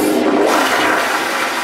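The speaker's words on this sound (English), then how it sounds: "That's a good flush." Toilet in a Disneyland Hotel room flushing, a loud, rushing burst of water that swirls and drains over a couple of seconds, heard up close with no talk.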